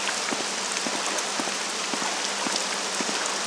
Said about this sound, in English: Why is it always raining here?